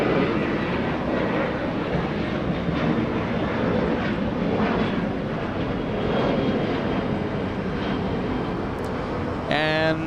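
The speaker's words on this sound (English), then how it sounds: "United Airlines 1712 flying to San Francisco." United Airlines Boeing 737-800 airliner departing Los Angeles International Airport, a steady broadband jet engine roar that holds loud and continuous throughout, with a faint click near the end.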